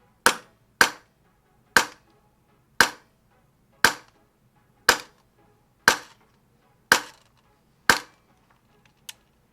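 Nine sharp, evenly spaced pops from an Arcturus HPA airsoft rifle firing 0.20 gram BBs through a chronograph on a 100 PSI tank, each a crisp close crack with a quick decay and quiet gaps between.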